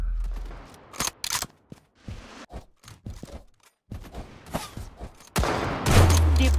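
Gunfire in the video game Rivals comes as sharp, close shot bursts scattered through the clip, ending in a denser volley with a low rumble.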